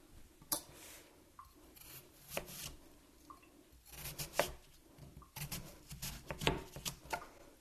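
A knife slices a jicama into pieces, making irregular crisp chopping and scraping cuts with scattered sharp impacts, close and fairly quiet with no talk.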